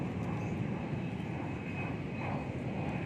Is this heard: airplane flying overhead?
yes